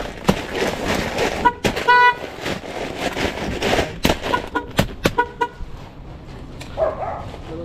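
A car horn toots several times in short bursts amid street noise, followed by a quick series of sharp clicks or taps.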